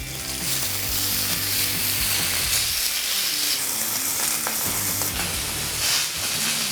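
A steak sizzles loudly and continuously in a hot pan, a dense, close frying hiss with crackling spatter that holds steady for the whole stretch with no talking.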